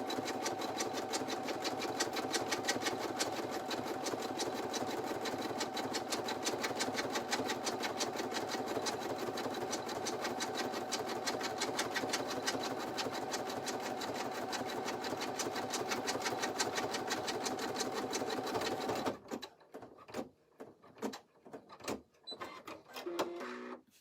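An embroidery machine stitches in a fast, steady mechanical rhythm for a long stretch, then halts abruptly, followed by scattered clicks and handling sounds.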